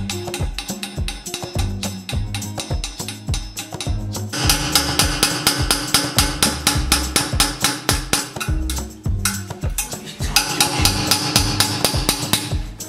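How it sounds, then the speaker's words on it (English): Repeated hammer blows knocking a stubborn old anode out of a 70-foot narrowboat hull, a fast steady run of loud metallic strikes that speeds up partway through. "Maybe hammer it. Hammer the other end."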